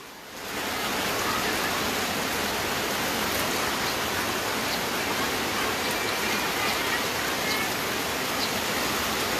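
Heavy, steady rain pours during a flash flood that has submerged the ground floor of a house in Mueang Loei, Thailand, a dense continuous hiss that starts suddenly and holds loud and unbroken throughout.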